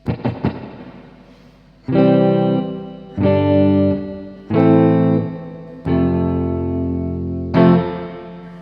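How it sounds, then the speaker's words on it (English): Electric guitar chords strummed one at a time through a Peavey Bandit 65 solid-state amp with spring reverb fully up, each ringing out with a deep, splashy reverb that lingers and washes between hits. "for a spring reverb that's really quite deep"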